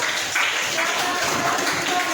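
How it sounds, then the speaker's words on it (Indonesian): Applause from a classroom of students welcoming a presenting group in a biology lesson, a steady wash of many hands clapping at moderate volume throughout, with faint voices mixed underneath. "tepuk tangan dong untuk Orija Satipa"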